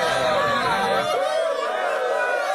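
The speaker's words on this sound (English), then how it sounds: "The crowd's not happy about that." A crowd murmurs and grumbles in a steady, close babble of many voices, with no single speaker standing out, for a few seconds.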